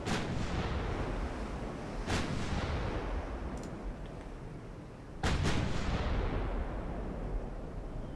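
Naval artillery roars from battleships in the Ultimate Admiral Dreadnoughts game: heavy booming salvos, one around two seconds and a double blast near five seconds, over a constant loud rumbling battle bed.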